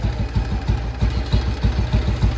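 Royal Enfield Bullet 350 single-cylinder engine idling after a one-kick start, close and loud, with a steady, even thump-thump beat of regular low pulses, well tuned, and no talk over it.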